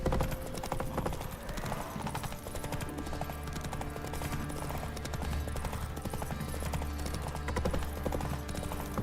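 Horse hooves pound in a fast, continuous clip-clop gallop from The Witcher 3 video game, loud and steady over a dense game soundscape with a brief whinny.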